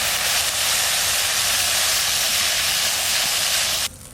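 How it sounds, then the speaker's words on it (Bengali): Water hits hot frying spice paste for a Pabda fish tel jhal, bursting into a loud, steady sizzling hiss that holds nearly four seconds before dropping off abruptly. "এবার জল দিয়ে দেবো।"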